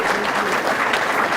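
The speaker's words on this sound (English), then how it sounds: "I still would like one more round of applause for Jude." A crowd at a scholar-athlete awards ceremony claps steadily, a dense, continuous wash of applause with no voices standing out.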